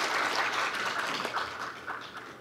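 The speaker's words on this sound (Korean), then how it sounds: "발표해 주신 노주환 대표님께 다시 한번 박수 부탁드리겠습니다" Audience applause for a presenter at a public hearing on AI-based industrial technology development, a short burst of steady clapping from a room of people that fades slightly toward the end.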